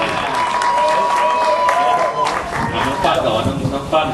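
Audience clapping for a cast member at a Thai film blessing ceremony for Raberd Terd Teng 4, a dense burst of applause mixed with crowd chatter and voices, loud and close throughout.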